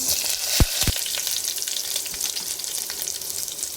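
Curry leaves crackle in hot tempering oil with dried red chillies for Telangana-style tamarind toor dal rasam, a loud continuous hiss with a couple of sharp pops near the start.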